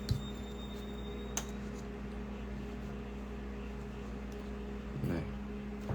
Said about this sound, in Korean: 근데 이게 냉장고에 넣어놨더니 딱딱해서 전자레인지 조금만 돌려도 될까요?